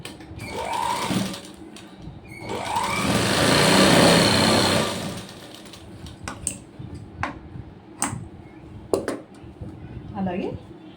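A sewing machine runs a folded seam on a blouse, with one steady, close whirring burst of a few seconds between stretches of someone talking and small handling clicks.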